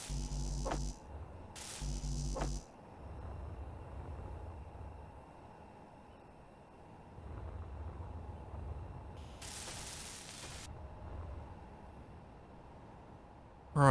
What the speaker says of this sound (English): So I'll weld this up, and yeah, be back in a sec.